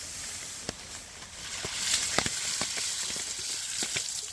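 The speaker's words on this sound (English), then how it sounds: "it's just been kind of sprinkling" Light rain sprinkling on a tent at a bikepacking campsite in July after a heavy overnight storm, heard as a steady soft hiss broken by scattered close, sharp drop taps, with no voices.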